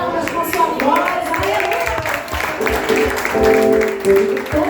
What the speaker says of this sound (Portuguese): Você pode glorificar Ele, que é digno, com suas palmas, com sua voz.